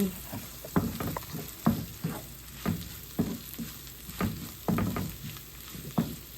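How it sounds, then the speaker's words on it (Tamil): Fennel and mustard seeds splutter in hot oil while cooking a bok choi curry, giving close, irregular sharp pops and crackles over a soft, steady sizzle. "பெருஞ்சீரகம், கடுகு எல்லாம் போட்டு அப்படியே பொரிஞ்சு கொண்டு வருது"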